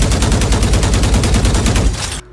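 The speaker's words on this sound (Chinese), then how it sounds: "他的枪声就是射出去会有一种好像在长廊嬉笑打闹会有那种回音的感觉" Rapid gunfire from the Black.Exe Vandal skin in Valorant, a dense fast burst of shots with a ringing, hall-like echo, loud and continuous for about two seconds before cutting off abruptly.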